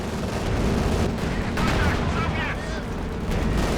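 An SU-85 tank destroyer fires in the Company of Heroes 2 video game, heavy booming shots amid continuous battle gunfire, with a voice talking over the action.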